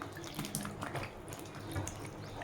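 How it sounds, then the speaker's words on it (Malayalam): Pieces of eggplant (American brinjal) drop into a bowl of water to soak in a home kitchen, giving quiet splashes and small liquid movements that stay faint and close throughout. "നമുക്കിതൊരു 10 മിനിറ്റ് വെള്ളത്തിലിടാം."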